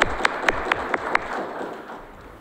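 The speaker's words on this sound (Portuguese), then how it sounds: "a nossa salva de palmas" A short run of crisp, evenly spaced claps, about six in a row, rings out at a Waiter's Day ceremony honouring a guest, then fades into room murmur.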